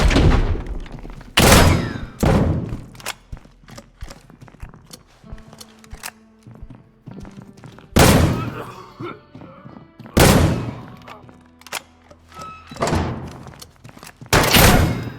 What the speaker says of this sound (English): Try your grenade.